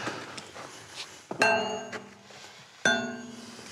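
Sawn stone block being tapped to judge its quality: two clear ringing metallic strikes with long resonant tones, the second after a short pause, over faint background noise and minor knocks.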